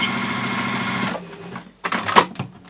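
A sewing machine sews down the seam allowance on a fabric appliqué with a steady close mechanical whir. After it stops, a few clacks and clicks are heard as the fabric is adjusted.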